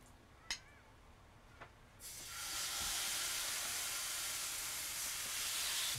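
Miso pork fillets go into a smoking, oiled pan with a few light knocks, then a loud, close, sustained sear that holds steady to the end.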